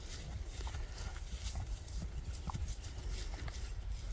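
Horses at a large horse gathering in Kashgar clip-clop along, hooves striking in an irregular, fairly close patter over steady crowd and ambient noise.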